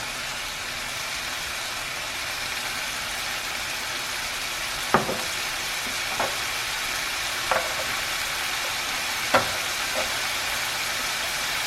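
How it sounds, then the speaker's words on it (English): Ground beef browning in a pan for lasagna, a steady broadband sizzle and crackle running throughout, with a few brief clinks or scrapes of a utensil against the pan spaced a second or two apart. "I'm just going to let this ground beef brown."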